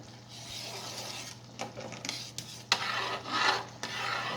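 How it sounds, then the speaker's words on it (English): A spoon scrapes and rubs around the bottom of a pot of hot, bubbling Welch's grape jelly being cooked for canning, in uneven rasping strokes that swell and fade close by, with no talking. "Keep stirring the bottom too"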